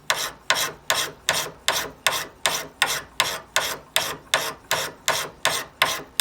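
Steady, rhythmic rasping strokes of a carving axe bevel being drawn across the abrasive of a KME axe sharpening kit, about fifteen even pulls, close and clear with no talking.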